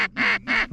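Mallard ducks during a duck hunt, two loud nasal quacks in quick succession, close and clear, each with a harsh buzzy tone and a short gap between them.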